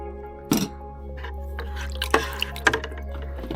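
Homemade beginner wine poured from a bottle into a container: soft drips and splashes come in a few separate bursts over a low steady hum, quiet and close.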